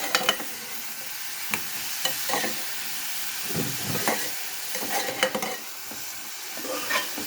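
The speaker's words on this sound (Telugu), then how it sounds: "ఈ విధంగా ఉల్లిపాయలను ఫ్రై చేసుకోవాలి" Onions fry in oil with spices for a boti curry, a steady sizzle punctuated by repeated stirring scrapes and clicks of a utensil against the pan, close and fairly quiet, with no voices.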